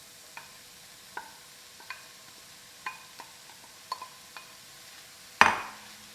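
Chopped onions cooking in olive oil in a pan, stirred with a utensil: light, evenly spaced scraping taps about once a second, fairly quiet and close, then one sharp loud clank near the end.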